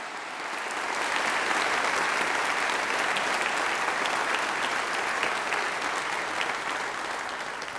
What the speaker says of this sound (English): So can I ask you to do a first practice of your applauding today